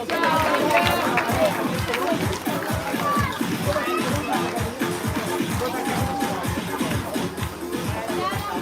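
A crowd at an Olympic boxing event in Albignasego claps in a steady rhythm to welcome boxer Cristian Bona, with crowd chatter and voices mixed in throughout.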